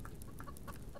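Chickens clucking in the survival video game Subsistence, a few short, soft clucks close together near the henhouses.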